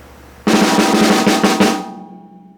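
Snare drum played alone at close range in a staggered triplet pattern, a brief run of about eight crisp hits in under two seconds with the last one ringing out and fading.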